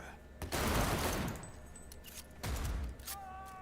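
Automatic gunfire in Cyberpunk 2077 Phantom Liberty comes in two loud bursts, one about a second long and a shorter one later. Quieter game sounds fill the gaps between them.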